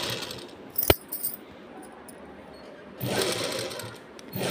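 A sewing machine stitches the round neck of a blouse in short runs, with a sharp metallic clack near the start, then a quiet pause before the motor hums again near and clear.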